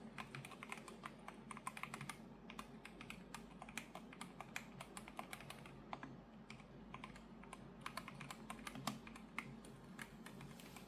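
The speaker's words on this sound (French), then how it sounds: "Les touches émettent un son linéaire, net, mais moins claquant qu'un switch mécanique classique" Steady typing on a SteelSeries Apex Pro TKL Gen 3 keyboard with linear keys, soft even clacks in quick succession, close and quiet, no talking.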